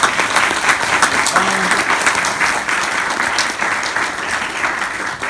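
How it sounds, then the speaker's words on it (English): An audience at an interview event gives Josh a round of applause, a thick, continuous clapping sound with a faint voice briefly heard underneath near the start. "let's give Josh a round of applause"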